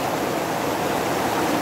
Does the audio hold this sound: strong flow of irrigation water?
yes